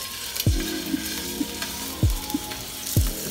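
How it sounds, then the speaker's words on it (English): BBQ chicken frying in a hot pan, a steady low sizzle with a few sharp thumps and clatters of stirring or moving pieces, close by and with no talking. "It's not where I want it yet. I want a loud sizzle."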